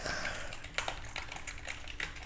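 Someone types on a computer keyboard, with quick, uneven key clicks tapping close by and no voices.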